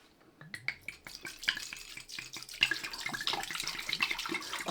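A bottle of Merlot is poured into a large stainless steel pan as mulled wine is made, giving a steady, close splashing and gurgling that builds in loudness across the pour.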